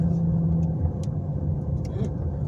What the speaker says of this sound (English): there's a whole bunch of cars heading for him